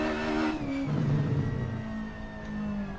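Ford Escort Mk1 engine in the Assetto Corsa racing game, revving steadily in third gear through a corner, loud and continuous with shifting pitch as the throttle comes back on.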